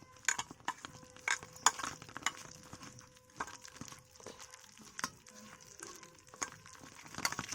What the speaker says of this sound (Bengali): জল দিলাম, এবার মিক্সড করবো।